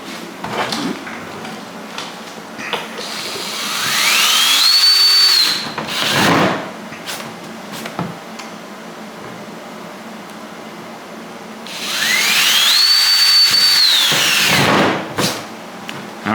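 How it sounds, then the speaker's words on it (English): Power drill boring holes in the package tray of a 1968 Ford Galaxie under restoration, two loud rising whines of the motor biting in, separated by a quieter pause with small clicks and handling noises. "so he's drilling those holes out"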